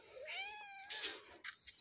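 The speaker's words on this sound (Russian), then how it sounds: "Тут нас встречает кошка." A cat meows in a garden in mid-June: a faint, drawn-out rising meow followed by a couple of shorter chirping calls, alone and not very close.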